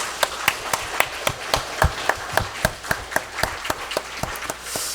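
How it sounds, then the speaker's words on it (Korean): A church congregation claps in a fairly steady rhythm, with sharp, distinct hand claps repeating for several seconds in a reverberant room. "우리 함께 힘있게 하나님을 생각하고 우리 부모님을 기억하며 함께 힘찬 박수 한번 올려야 됩니다"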